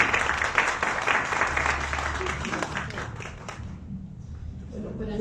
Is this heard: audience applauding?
yes